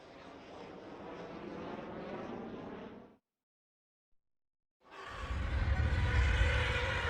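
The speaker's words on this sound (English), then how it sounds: "I took a sample of Jet Fighter and put it below" A jet roars past, fades into a second of silence, then a second loud, rumbling jet pass swells in with heavy low-end thunder.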